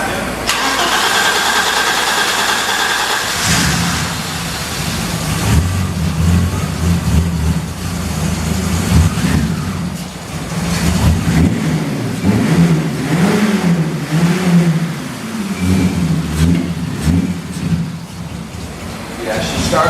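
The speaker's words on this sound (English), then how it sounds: "Yeah, she's starting with fuel." A small MTD engine cranks, then catches on fuel and settles into a steady, loud running note with some revving, close by, while people talk excitedly over it.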